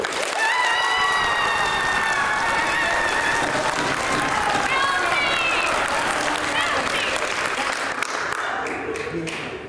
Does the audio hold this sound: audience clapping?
yes